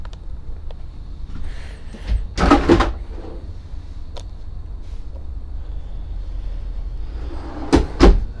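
A large kitchen drawer in a 2020 Leisure Travel Wonder RV slides open, with two clear bursts of drawer noise, one early and one near the end, over a low steady background hum.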